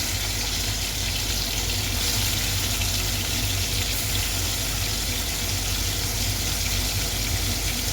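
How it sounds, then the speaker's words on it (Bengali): Shrimp fry in hot oil in a pan, making a dense, even sizzle that holds steady and loud from start to finish with no voices. "তেলটা গরম হোক মাছটা ভাজা দেবো"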